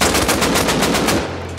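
A quick burst of AK rifle fire in Rust, about eight evenly spaced loud shots in a fast automatic rhythm, close and alone, then cut off.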